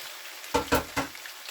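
Onions fry in extra virgin olive oil as the base for a pomodoro tomato sauce, with a few brief, soft sizzling surges over a quiet hiss.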